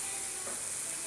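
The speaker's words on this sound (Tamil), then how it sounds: "நான் எல்லா காய்கறியும் சேர்த்து ஒன்று போல் வதக்கிக்கிட்டேன்" Chopped vegetables, tomato and green chillies sautéing in a pan for a quick stir-fried poriyal, giving a steady, close sizzle with faint stirring and no talk.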